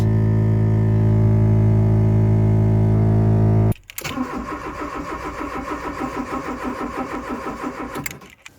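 A car engine runs loudly in a steady drone, cuts out abruptly, then cranks and fires back up into a rough, pulsing idle that continues near and loud before stopping.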